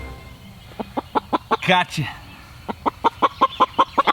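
Chickens on a homestead give a rapid series of loud, close clucks and squawks while being caught, with a flurry of flapping and a short exclamation from a person in the middle.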